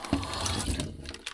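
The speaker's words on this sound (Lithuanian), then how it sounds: "Kol dar vanduo neužsuktas. Kol dar turiu vandenėlio." Water runs from an outdoor tap on a farm in a brief, close burst of gushing and splashing with no voices.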